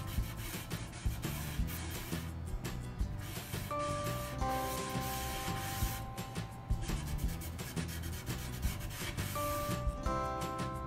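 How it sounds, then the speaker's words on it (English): A towel rubs along the edges of painted furniture to distress it, making a steady, close scratchy swishing with rhythmic back-and-forth strokes and no talking. "we're just basically rubbing along the edges where it kind of naturally wear with time and age"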